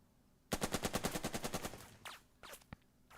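Gunfire in the Burden of Command video game: a rapid machine-gun burst of about a dozen loud, evenly spaced shots, followed by scattered single shots and short bursts.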